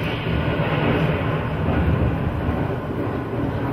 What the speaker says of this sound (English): There's the 5:10 train for Boston.